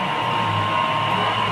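An electric fan runs at top speed on a simple DIY power station, giving a steady, loud whooshing hum with a faint motor whine, unbroken throughout.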